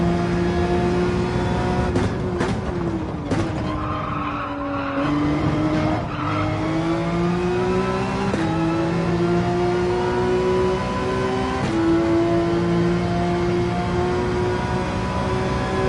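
Race car engine and squealing tires in Gran Turismo 7, a steady loud engine drone rising and falling through gear changes, with tire skids breaking in repeatedly and no talking over it.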